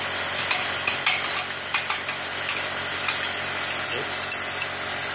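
A plasma cutter run without a compressor slices through thick steel with a steady, loud hiss and crackle, sputtering throughout and broken by small pops.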